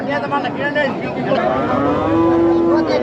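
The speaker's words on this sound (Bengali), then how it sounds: "দেখে নিন আমাদের সামনে দেশাল ছাড়টি হচ্ছে" A desi local-breed bull at a cattle market lets out a long, deep, drawn-out moo that swells in the second half, close and loud over a background of crowd chatter.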